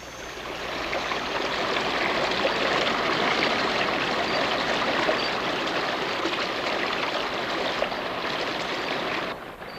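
A rainforest stream flows steadily, a continuous close rushing and gurgling of water at even loudness that holds for about ten seconds before easing slightly.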